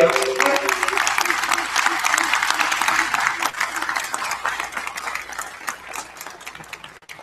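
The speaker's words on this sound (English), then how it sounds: "let's stand up and give him a round of applause and say thank you" An audience at a convention session applauds, a dense, steady wash of clapping hands that holds loud through the clip and tapers slightly toward the end, with a faint voice briefly underneath.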